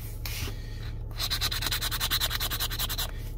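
Someone scratches a $20 Texas scratch-off lottery ticket up close. A quick run of raspy, rhythmic scrapes is heard, each stroke distinct, over a low steady hum in a quiet room.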